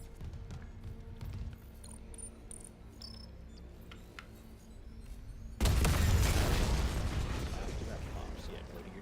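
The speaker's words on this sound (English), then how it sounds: "Plant the explosive charge. Take cover to detonate." An explosive charge detonates in the sci-fi horror game Dead Space, a sudden loud broadband blast that cuts in after a stretch of quiet mechanical hum and small clicks, then rumbles and slowly decays.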